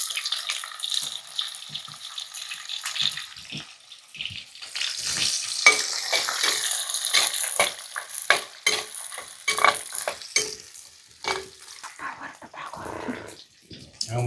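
Shallots and onion frying in a pan for a village-style fish curry make an intermittent sizzle with stirring scrapes, while a person talks over the cooking throughout.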